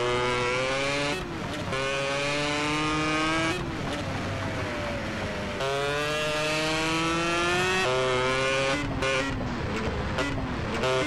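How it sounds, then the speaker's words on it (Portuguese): A Yamaha RD motorcycle engine in a GTA game revs hard and loud, its pitch climbing and dropping through repeated surges with tire noise, close and steady throughout. "Essa moto aqui não dá pra controlar, não, mano."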